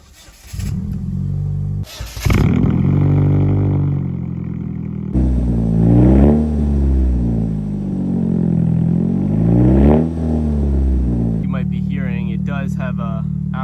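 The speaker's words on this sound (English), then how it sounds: "Start it up for y'all here." A Mazda Miata fitted with a loud aftermarket exhaust cranks and catches, then idles and revs twice in strong rising and falling surges, close and loud, with someone talking over the engine.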